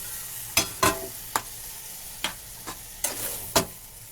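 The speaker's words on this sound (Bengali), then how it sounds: "এবার আমি ডালটা দিয়ে দেবো" Lentil dal for a paneer and vegetable dal is stirred in a hot pan, with a soft sizzle under scattered scraping clacks of a spoon against the pot, several sharp knocks spaced irregularly.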